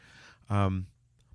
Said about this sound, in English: if you guys can hear a cat meow